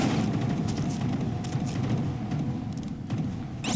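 Cannon fire in GTA 5 during a robot battle, heavy booming blasts and crackling impacts over a dense, loud rumble that persists throughout.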